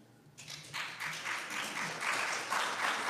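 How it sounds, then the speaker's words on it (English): Audience applause at a community association candidate forum, starting after a quiet moment and building into steady, fairly close clapping that swells and continues throughout. "can we hold our applause?"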